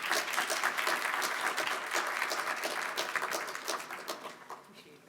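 Audience applause fills a conference hall at a US-Africa business forum as a USAID Bureau for Africa leader is welcomed to the stage, steady and dense at first, then thinning toward the end.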